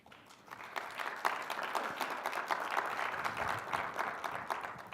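An audience at a digital health awards ceremony applauds for several seconds, a dense and lively patter of many hands that rises quickly and stays steady, with no talk over it.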